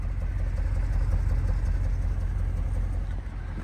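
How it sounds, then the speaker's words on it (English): Car with stock catalytic converters and full stock exhaust idling, a quiet, low, even engine rumble that stays steady and close with no voices. "now obviously with those stock cats and the full stock exhaust, this thing is way too quiet right now"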